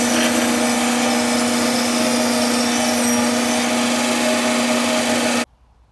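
A bandsaw cuts through a very thick 6-inch block of soft cedar, its steady, loud motor whine and blade rasp running continuously before stopping abruptly near the end.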